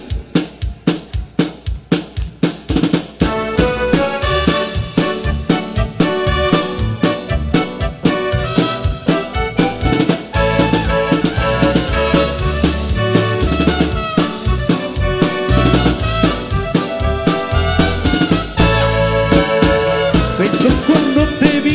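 A marimba orchestra plays lively ranchera-style music, loud and full, with rippling mallet runs over a steady bass pulse and driving rhythm throughout, with no voices.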